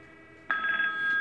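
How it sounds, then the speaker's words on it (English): A Cisco SPA IP desk phone starts ringing with an incoming call after a brief quiet moment, giving a clear electronic ring tone close by. "So you're going to see the, four, the phone start ringing."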